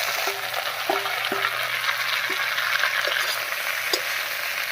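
Potato, taro and eggplant pieces sizzle steadily in hot oil, a continuous close frying hiss with a few light clinks of a spatula stirring the pan, no talk.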